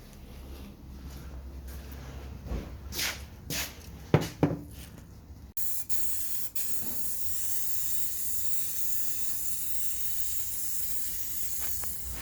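Light coat of spray paint applied during a tailgate storage install on an FZJ80 Land Cruiser: a few short hissing bursts, then a long steady close hiss of spraying lasting several seconds.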